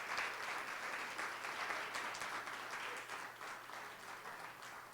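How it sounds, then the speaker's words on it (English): Audience at a government national development vision event applauding steadily, a dense, continuous wash of clapping from many hands that holds at a fairly even level for the whole stretch with no speech over it. "I need you to give an applause for all Raquel Lofowang, Ife Badijo, Jennife"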